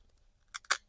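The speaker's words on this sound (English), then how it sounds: "So I take a razor blade and I rip that screen out of there." A razor blade tears a filter screen out of a disposable cup in two quick, crisp snips or rips, close and fairly quiet against near silence.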